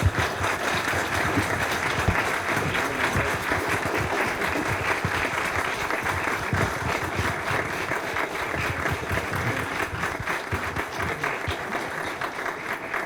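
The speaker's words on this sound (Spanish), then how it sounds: "Les pido un fuerte aplauso, por favor" An audience at the close of a debate on markets and the state applauds, dense sustained clapping filling the room evenly for the whole stretch.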